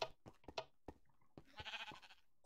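Sheep in the Minecraft video game bleat a few times over about two and a half seconds, short wavering calls close by and fairly quiet, with brief clicks and game sounds between them and no talk.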